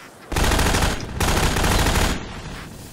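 Sustained automatic turret machine-gun fire in Half-Life 2, loud and close, pouring out in two dense rattling bursts with a brief gap between them, then cutting off into a quieter tail.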